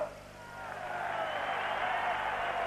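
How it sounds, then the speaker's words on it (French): A stadium crowd at the 1984 Olympic football final applauding the Brazilian team, a broad, distant wash of clapping and crowd noise swelling steadily. "Les Brésiliens applaudis"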